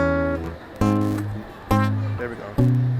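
Palm-muted guitar plays a song's intro, a few plucked two-note chords spaced about a second apart, each with a sharp attack and short damped ring, close and alone.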